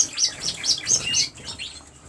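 Dimorphic cock and hen birds in an aviary give a quick run of high chirps over fluttering wingbeats, close and lively, fading after about a second.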